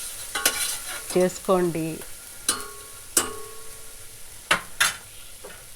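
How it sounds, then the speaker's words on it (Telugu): Sprouts curry frying in oil in a home kitchen pan, with spoon scrapes and clinks of stirring over a low sizzle, while someone speaks in short bursts. "ఇది బాగా నూనెలో వేగుతూ ఉంటుంది అన్నమాట"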